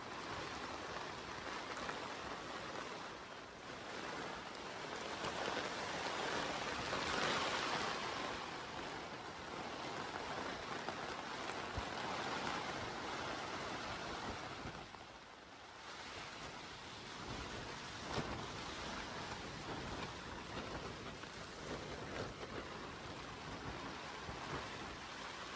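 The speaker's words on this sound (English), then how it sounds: "it's really, really windy and it rains a lot" Strong wind and rain on a greenhouse make a constant dense roar and hiss that swells and dips slightly over nearly half a minute, with no voices.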